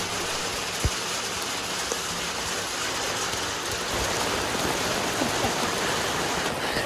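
Rain falls in a steady, dense hiss during a hot, stormy spell, constant throughout with a few faint knocks and no voices.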